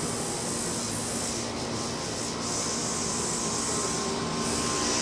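An American Standard Silver series central air conditioner, a 2-ton unit made in March 2017 at a condo complex, runs with a steady broadband whoosh of fan and compressor, loud and unbroken for the whole stretch with no talk.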